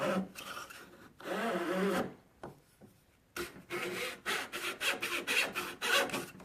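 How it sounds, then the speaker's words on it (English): A hand saw cuts wood trim for interior front door casing in a craft miter box, with close, rhythmic back-and-forth rasping strokes in bursts, a brief pause, then a quicker run of strokes. "Now this is a craft miter box. Just let the blade do the cutting."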